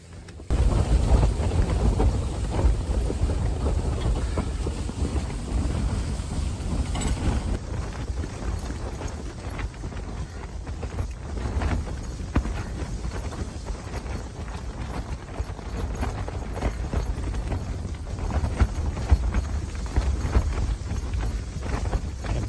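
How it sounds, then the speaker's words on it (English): Blustery wind buffeting a high-altitude mountain camp, a steady loud low roar with gusty rumbling throughout and no voices. "Camp 2's a little bit blustery."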